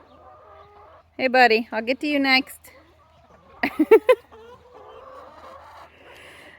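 Chickens in a small new backyard run cluck in short bursts around a person's speech, with quieter clucking and murmurs continuing underneath.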